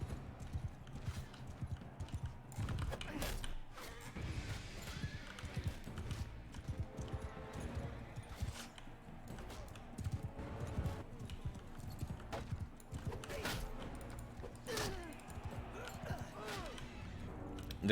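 Horse hooves clip-clopping in a medieval video game, a steady faint patter of hoofbeats with occasional louder knocks throughout, no talk.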